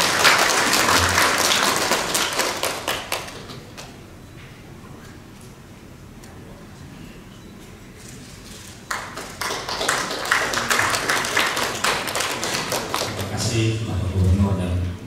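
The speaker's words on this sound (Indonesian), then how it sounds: "Mari kita beri tepuk tangan." Audience applause at a pastoral council gathering in Kupang attended by the governor and the archbishop, with a burst of clapping that fades into a quieter stretch before swelling again, while a voice speaks over it.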